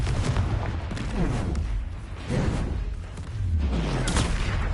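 Spell blasts in Hogwarts Legacy come as a series of booming, crackling bursts and whooshing impacts, loud and repeated throughout.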